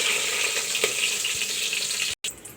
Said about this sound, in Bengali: তো আমি এখানে মশলাগুলো ভেজে নিয়েছি।